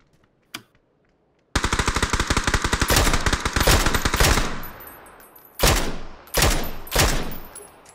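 Gunfire rattles in PUBG ranked mode: a lone early shot, then a loud sustained automatic burst of rapid cracks lasting about three seconds, followed by three separate heavy single shots spaced about a second apart, close and with no talking.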